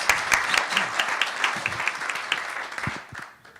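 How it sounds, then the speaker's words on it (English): Audience applause at a regional disaster-response meeting, a dense burst of clapping from a room full of people that tapers off toward the end. "Give President-elect Turner a round of applause."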